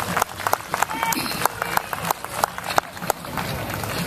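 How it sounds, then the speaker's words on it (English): An audience at a city anniversary celebration in Murrieta, California applauds, irregular clapping from a crowd, moderately close and lively throughout. "Let's have a round of applause."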